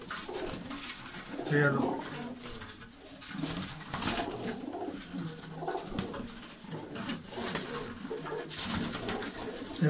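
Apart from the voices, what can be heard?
pigeons cooing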